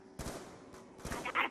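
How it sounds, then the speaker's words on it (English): A few quick, faint pistol shots from Black Ops 2 Zombies gameplay, two or three sharp cracks spread across a second and a half over a low background. "I'm gonna start shooting with the pistol"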